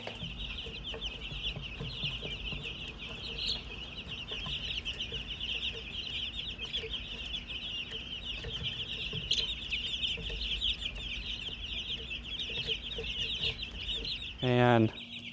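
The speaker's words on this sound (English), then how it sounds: "these chickens will just come by and start pecking at them" Young meat chickens in a brooder with wood chip bedding cluck and cheep continuously at close range, a busy overlapping chorus of small calls, with a short louder squawk near the end.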